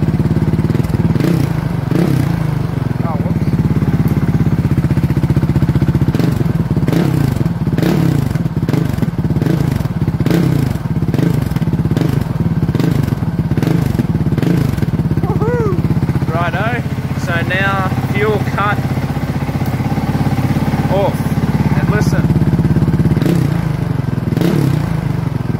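Honda CRF450L dual-sport motorcycle engine in stock tune, idling with repeated popping backfires and a rhythmic sputter, loud and close, with some blips of revving partway through.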